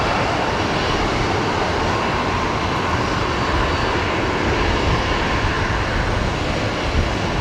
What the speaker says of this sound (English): It's an Alliance liveried Embraer 190 coming in from Adelaide.